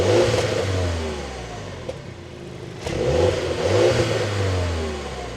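A 2026 Mini JCW 2 Door fires up nearby, its engine catching and then revving in two rising and falling bursts separated by a brief settle toward idle.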